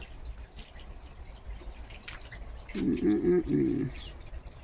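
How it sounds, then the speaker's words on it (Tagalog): Pigeons coo from a roost near a cornfield on a cold day, a short burst of low, rounded cooing calls lasting about a second, moderately close over a steady outdoor background hum. "Maraming kalapati dyan na nakatira."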